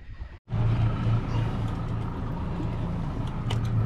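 A fishing boat's engine idles slowly at low revs, a steady low rumbling drone that fills the whole stretch after a brief cut near the start, with no voices over it.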